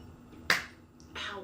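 A single sharp hand clap marks the start of a take on a home short-film shoot in an apartment, crisp and close, followed about half a second later by a softer rustle.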